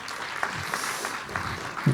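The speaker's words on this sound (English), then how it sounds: "a round of applause for keeping us healthy" Applause from an audience at an international business event on the Thai Eastern Economic Corridor, a steady crowd clapping that holds for about two seconds at moderate distance.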